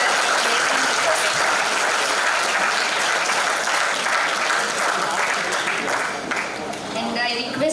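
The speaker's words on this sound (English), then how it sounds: "please give a big round of applause for those who have arrived here" A large audience claps in a long, steady round of applause at an institute foundation day ceremony, loud and continuous, easing slightly near the end as a voice comes through.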